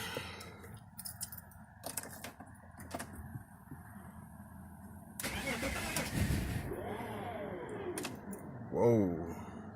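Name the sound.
BMW E46 car engine cranking and starting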